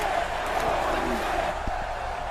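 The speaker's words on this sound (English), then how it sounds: "And this crowd is going crazy." A wrestling arena crowd in WWE 2K24 roars continuously, a loud sustained wash of cheering and shouting filling the space throughout.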